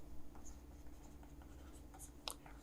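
Soft, scattered scratches and taps of writing on a board during a lesson, faint and intermittent over a low steady hum, with a voice speaking quietly in the background.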